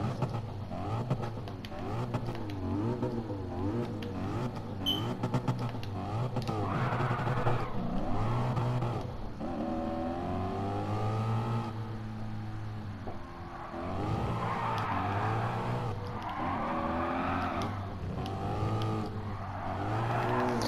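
An American muscle car engine drones and revs repeatedly, rising and falling in pitch as it accelerates and shifts, heard from inside over a long stretch.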